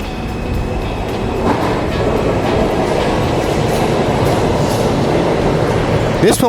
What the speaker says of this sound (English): Here's your E train.